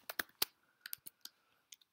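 Keystrokes on a computer keyboard while setting up a Mac app, a series of sharp clicks in uneven bursts, close and clear with no talking.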